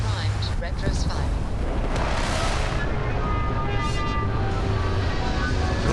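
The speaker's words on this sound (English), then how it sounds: "Landing struts primed. Retros firing." Retro thrusters of a spaceship firing during landing in Starfield: a steady, loud, broad roar with a rushing burst in the middle, continuous throughout, with voices speaking over it.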